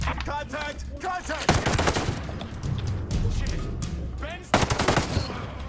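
Rapid automatic gunfire in the tactical shooter Tom Clancy's Ghost Recon Breakpoint, loud bursts and rattling volleys that come and go, with players talking over the shooting.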